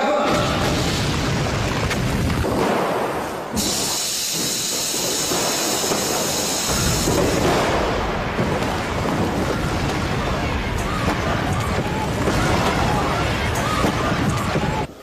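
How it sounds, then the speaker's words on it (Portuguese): Staged explosions tear through a shopping mall set built for a 1998 Brazilian TV series, loud roaring blasts and hissing debris over continuous rumble, with a bright burst in the middle. "Realizadas as explosões iniciais"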